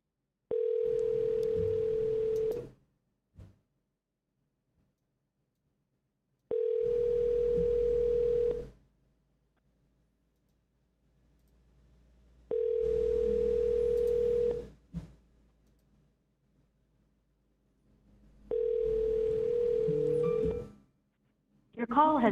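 An outgoing phone call's ringback tone sounds in steady repeating pulses, each about two seconds long with a few seconds of near-silence between, and a voice murmurs faintly under the gaps.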